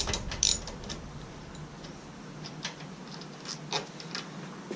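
A hand ratchet clicks quietly and quickly while backing out the fuel tank bolts on a Honda CBR600RR motorcycle, close and faint, with a few sharper metallic taps.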